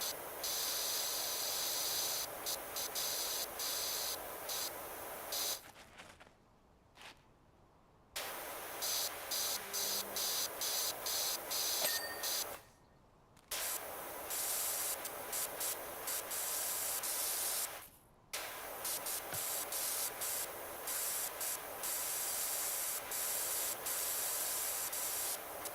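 Pressure washer spraying in PowerWash Simulator 2, a loud, steady hissing jet that cuts out several times for brief pauses before resuming, with no voices over it.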